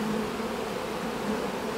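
Honeybees clustered around a queen cage while re-queening an aggressive hive or split give a steady, close, continuous hum that holds the same level throughout, with no voices.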